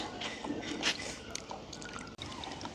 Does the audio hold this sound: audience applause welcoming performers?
no